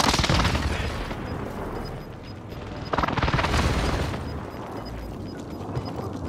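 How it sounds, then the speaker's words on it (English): Airstrike explosions in Call of Duty Warzone rumble as a sustained, loud barrage of heavy booms, with fresh blasts hitting at the start and again midway, layered over dense battlefield noise. "Airstrike. Stay alert!"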